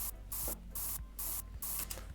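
A deodorant spray can hisses in several sharp, rhythmic bursts close by, each spray a loud rush of air separated by short pauses.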